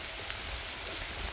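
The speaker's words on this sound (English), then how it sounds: "Oh my god, it's raining so fucking hard." Torrential rain pours down hard in a thunderstorm, a dense, steady hiss of heavy drops drumming on surfaces, close and continuous for a brief moment with no speech.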